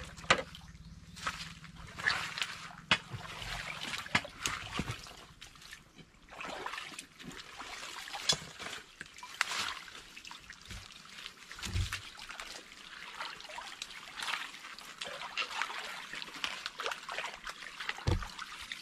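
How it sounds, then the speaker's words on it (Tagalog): Water trickles and splashes softly along a freshly dug drainage channel in the countryside, a faint, continuous dribble with scattered small splatters and knocks over a long stretch. "Gawa tayo ng padaluyan ng tubig"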